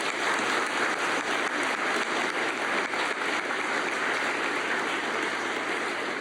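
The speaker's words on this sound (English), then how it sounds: "we're going to stop and give them applause" An audience at an entrepreneur of the year award ceremony breaks into sustained applause, dense steady clapping filling the room for several seconds without voices over it.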